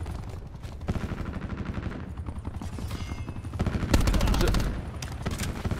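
Gunfire in Call of Duty Black Ops 4, a busy spray of rapid automatic shots and impacts filling the stretch, loudest near the end, under game noise with someone talking briefly.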